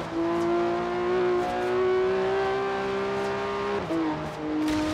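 A car drives in Forza Horizon 3, its engine droning steadily at a sustained pitch with small shifts and one brief dip, loud and close with no talk.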